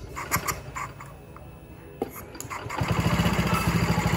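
A Honda S90 motorcycle's electric starter cranks the engine, a brief whirring crank followed by the engine catching and running with a steady, close, pulsing idle.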